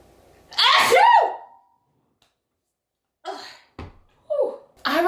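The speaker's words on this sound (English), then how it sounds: "I'm about to sneeze" A single loud, close sneeze bursts out near the start, and a few short vocal sounds and breaths follow after a pause.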